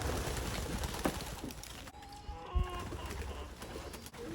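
Racing pigeons coo softly at a loft among young matured birds, low murmuring calls over faint background rustle and scattered bumps, fairly quiet and close.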